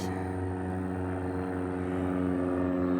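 A propeller airplane drones steadily overhead on the Allegheny Trail, a loud, even engine hum with layered tones holding for several seconds.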